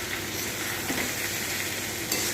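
Potato and bitter gourd frying in a pan while being stirred, a dense continuous sizzle with faint scraping, close and steady.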